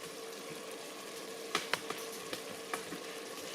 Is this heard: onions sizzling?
yes